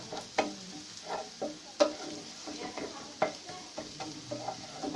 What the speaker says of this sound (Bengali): তো আমরা এটাকে ভালোভাবে ভেজে নিচ্ছি যেন এটা